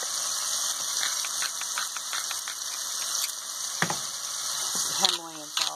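Baby chicken mushrooms sizzle steadily in a hot pan, a continuous frying hiss with occasional stirring scrapes, while a voice speaks briefly near the end.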